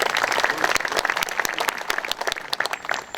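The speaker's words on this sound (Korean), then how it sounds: "박수 부탁드리겠습니다." An audience at a May 18 memorial ceremony applauds guests being introduced, a dense burst of clapping from a moderate-sized crowd that thins out toward the end, with no talking over it.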